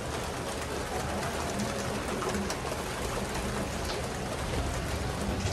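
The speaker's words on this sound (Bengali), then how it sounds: "2 ঘন্টা ধরে কন্টিনিউয়াস বৃষ্টি হয়ে গেছে। আওয়াজ শুনতে পাচ্ছ নিশ্চয়ই" Heavy evening rain pours on without a break, a dense, loud, even wash of noise that stays steady from start to finish, with no voices.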